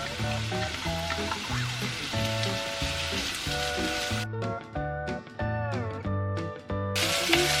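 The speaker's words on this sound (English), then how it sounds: "Now that it's heated up a bit, I'm going to add the garlic and the onion." Garlic and onion sizzle in hot olive oil in a pot, a steady close crackle that runs beneath prominent background music for the whole stretch.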